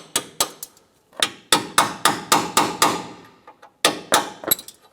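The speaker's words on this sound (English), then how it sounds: "We're going to go ahead and use a punch, work our remaining part of the rivets out." Sharp metallic hammer blows drive a punch to knock old rivets out of a 2011-2018 Ram 1500 headlight mounting bracket, striking close and loud in quick bursts of several hits separated by brief pauses.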